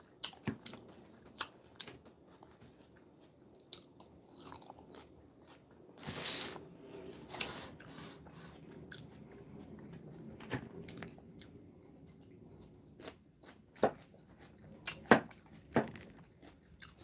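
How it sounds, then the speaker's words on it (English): Biting and chewing on food, with crunchy bites and tearing sounds scattered irregularly through a quiet room, a louder burst of chewing midway and sharp crunches toward the end. "I hear some more eating sounds."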